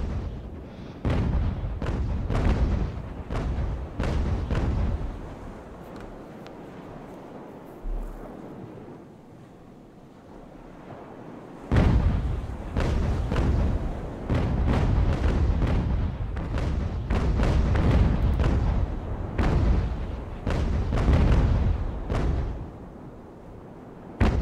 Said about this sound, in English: one more volley should do it